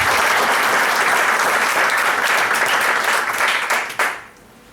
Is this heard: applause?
yes